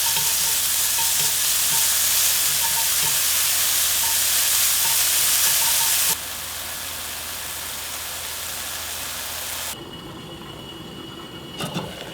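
Onion and meat sizzle and stir-fry for japchae, a loud continuous close-up hiss and crackle that steps down in intensity twice as the pan settles.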